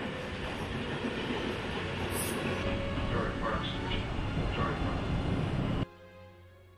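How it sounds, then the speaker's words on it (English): A train from a film scene rumbles steadily with a dense low roar and faint rail noise, continuous and fairly loud before cutting off abruptly near the end. "So she's on the train, he's watching the train."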